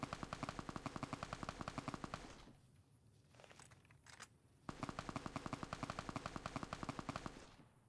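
Rapid machine-gun bursts in a video game, loud and continuous, drop away for about two seconds in the middle, then return as steady rapid firing.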